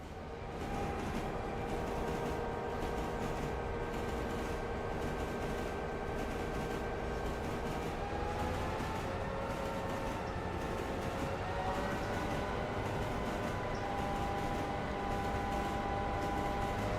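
A heavy freight train of over 1,390 tonnes rolls along in the Railroader video game, a continuous low rumble with rhythmic wheel clatter and sustained tonal whine, steady and moderately quiet, with no speech.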